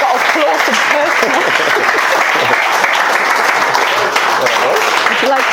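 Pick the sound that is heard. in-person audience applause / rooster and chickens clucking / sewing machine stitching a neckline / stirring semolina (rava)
in-person audience applause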